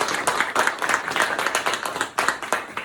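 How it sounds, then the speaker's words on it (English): Audience at an elementary school ceremony clapping in support, close and lively with individual claps distinct in a quick, uneven rhythm, rising and dipping in brief waves. "can we clap it up for everyone who's here to support"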